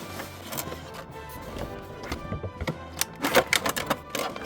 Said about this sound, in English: The easiest way to open these guys is from the bottom, because the box is shaped kind of funky.